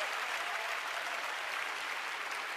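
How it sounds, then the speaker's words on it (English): A church congregation claps in sustained, dense applause for about two and a half seconds, fairly quiet and even, with no voices over it. "Let's give 联合 a big hand clap, shall we, church?"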